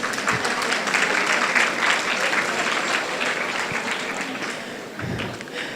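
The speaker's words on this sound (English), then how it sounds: "Give her a round of applause. A whole round of applause." A crowd applauds warmly and steadily for several seconds, a dense patter of clapping with a few dull thumps mixed in.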